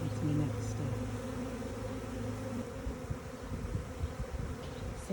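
A swarm of honeybees hums continuously near their hive, a dense, even buzz with no pauses, close and moderately loud.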